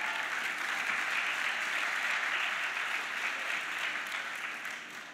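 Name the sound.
graduation ceremony audience applause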